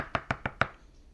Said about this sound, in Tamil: அதுக்கு நான் ஆனியன்ஸ், டொமேட்டோ எல்லாத்தையும் நான் கட் பண்ணி எடுத்து வச்சுக்கிறேன்